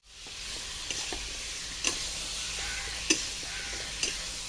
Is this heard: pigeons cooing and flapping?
no